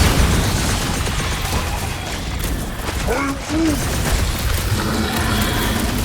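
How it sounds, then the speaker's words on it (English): Loud explosions and booming bursts fill a chaotic battle in the Guardians of the Galaxy video game, a dense continuous barrage with a brief creature-like cry partway through. "Quill, want to see some fireworks?"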